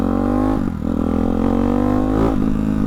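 Motorcycle with a Hyper 698 S1 exhaust on deceleration, a loud steady engine drone close by that dips and recovers in pitch as the revs fall away.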